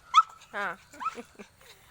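A pet dog lets out a sharp yip, then a long whining whimper, followed by several shorter whines and a soft bark, close up in a quiet setting.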